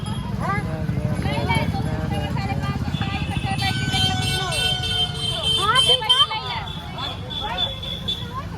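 Horse hooves clip-clop steadily at a busy village fair, a quick rhythmic clatter under loud crowd babble, nearby talk, distant traffic and occasional horn toots.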